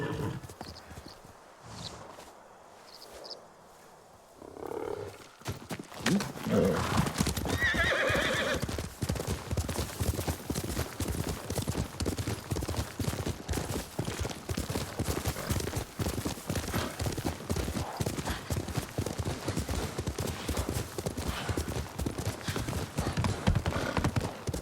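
A horse ridden in a samurai-era video game, with steady rapid hoofbeats clip-clopping close and loud for most of the stretch, a neigh near the start, and quiet ambience before the galloping begins.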